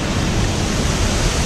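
Chunchi Falls waterfall, also called Ganalu Falls, pours with a steady, dense roar of rushing water, loud and close, continuous and broadband with no talk over it.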